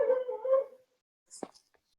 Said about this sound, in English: my dog's going a little bit crazy in the background